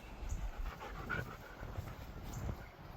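Dogs lying in a yard pant steadily and close by, a rapid rhythmic huffing with a brief soft whimper partway through.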